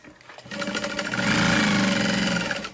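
A sewing machine stitches around a large Valora handbag, starting up after a brief quiet and running in a fast, steady mechanical whir with rapid needle chatter, close and loud, without speech.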